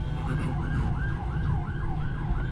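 An ambulance siren wails in a steady rising-and-falling cycle, moderately loud over low traffic rumble, with no voices.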